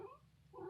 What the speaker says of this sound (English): Excuse my kitty cat.